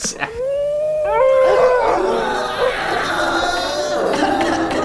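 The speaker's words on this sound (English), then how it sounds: "We hear them barking, and then suddenly the barks kind of morph into human screams." Dogs bark and howl in rising, sliding cries that morph into screaming, shrieking human voices, loud and layered, continuing for several seconds.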